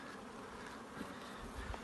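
Steady, dense buzzing of many honeybees, continuous and close, filling the whole stretch with no voices.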